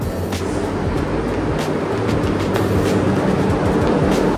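A crowded passenger train in motion, heard from inside a carriage: a steady low rumble with rattling and faint rhythmic clacks, continuous and fairly loud, with no voices.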